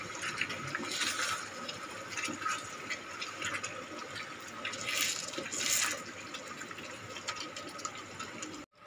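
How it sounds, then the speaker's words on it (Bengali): Water poured from close by into a pan of Hyderabadi masala chicken curry cooking in oil, a steady splashing stream lasting several seconds with brief louder surges, then cutting off abruptly near the end; no talk. "জলটা দিয়ে দিলাম, দিয়ে একটু হালকা নেড়ে চেড়ে দেব।"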